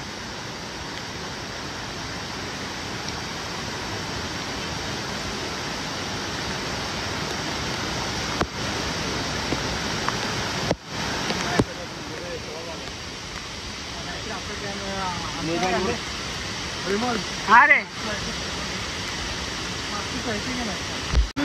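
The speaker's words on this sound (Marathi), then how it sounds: "तुम्ही बघू शकता हा धबधबा आता जस्ट आम्ही क्रॉस केला." A monsoon-swollen waterfall along the Bhorgiri–Bhimashankar–Khandas trek gives a constant broad rushing roar nearby, with voices and brief exclamations breaking in over the water toward the end.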